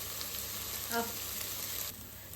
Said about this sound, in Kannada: ಸೊ ಒಗ್ಗರಣೆ ಚೆನ್ನಾಗಿ ಫ್ರೈ ಆಗಿದೆ